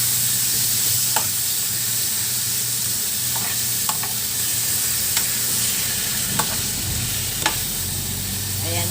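Pork marinated in soy sauce and pepper sautés in a pan with a constant loud sizzle, punctuated every second or so by sharp spatula scrapes, with no one talking.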